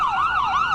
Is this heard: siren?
yes